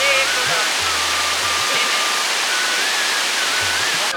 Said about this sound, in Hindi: माना विलेज में एंट्री करते ही आपको एक ऐसा वाटरफॉल देखने को मिलेगा स्टार्टिंग में ही